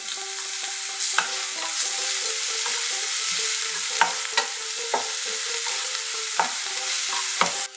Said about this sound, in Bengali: খুব ভালো করে কষে নেব।